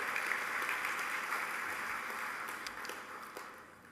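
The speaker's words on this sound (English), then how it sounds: "Let's give them a great warm round of applause and thank them for their support." Warm audience applause at a city's State of the City address, a steady wash of many hands clapping that holds even and then slowly fades out.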